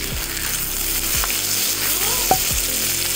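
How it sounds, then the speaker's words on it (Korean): Duck meat sizzling on a barbecue grill, a loud continuous close crackle of fine spattering fat with a few brief clicks and thumps, no talking. "아 오리 소리는 좀 다르네요."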